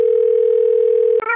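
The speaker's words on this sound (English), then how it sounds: "I'm going to call Orange from the My PB&J phone" An outgoing phone call gives a loud, steady electronic tone that runs unbroken for over a second, then cuts off abruptly into a short burst of a different sound.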